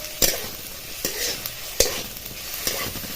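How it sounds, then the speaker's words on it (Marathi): Dry coconut and spices stirred in a hot kadhai, with about four distinct scraping strokes over a soft, faint sizzle, close and without talk. "आणि एक दोन चार मिनटाचं हलवत राहायचे"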